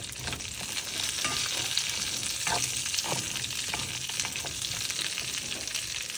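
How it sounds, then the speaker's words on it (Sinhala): Food frying in hot oil gives a steady, even sizzle that runs throughout with light crackles, close by and with no voices. "අපි මේකට කොස්සර ටික දාලා හොඳට තෙලෙන් බැද ගන්නවා"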